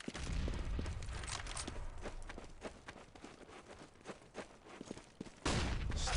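Gunfire from an M4A1 rifle during a competitive Counter-Strike match, with scattered shots and footsteps under a quiet game mix, then a louder burst near the end.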